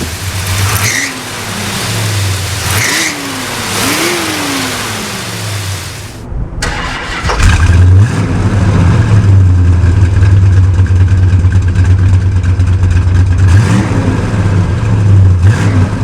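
A Plymouth Superbird muscle car engine revs loud and close, rising in several sharp pulls before dropping into a steady, heavy roar that swells again near the end.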